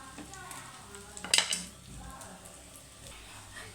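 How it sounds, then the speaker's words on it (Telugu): Chicken pieces sizzling gently in a pan for a home-style chicken fry, with metal utensil clinks and scraping as they are stirred, a sharp clatter near the middle. "ఇంకా కొంచెంసేపు కూడా వేయించుకోవాలండి కొంచెం కూడా వేగాలి నిదానంగా అయితే కలుపుకోవాలండి"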